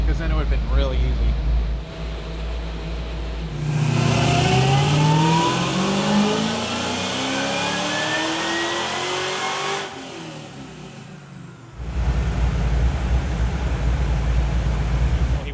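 A supercharged 1968 Camaro engine on a dyno runs up hard through a long pull, its pitch climbing steadily before cutting back to a loud, rumbling idle; the roar is strong and close throughout.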